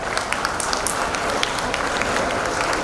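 Loud crowd applause at a school annual day celebration fills the space, dense continuous clapping with individual sharp claps popping out near the front.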